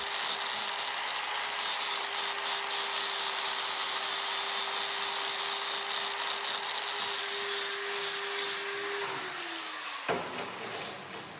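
A power sander or grinder shapes raw wooden blocks into a knife handle, holding a steady whirring hum that winds down near the end, then a sharp knock and quieter background.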